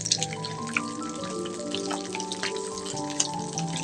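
Whole cinnamon, cardamom and cloves dropped into hot oil after frying chicken, giving a steady close sizzle with scattered crackles and pops and no speech.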